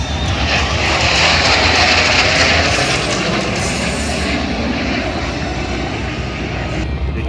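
A T-38 jet trainer passes at an air show, a loud, broad roar that holds steady and slowly fades over several seconds, with no talking.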